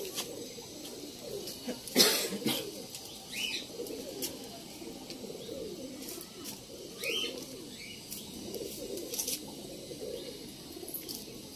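Pigeons coo softly inside a loft, low murmuring calls repeating across the scene, with scattered sharp clicks, rustles and a brief louder knock near the start; no talking.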